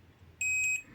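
A multimeter set to continuity mode gives one steady electronic beep, loud and clean, sounding for about half a second while its probes test an inductor on a power-supply board.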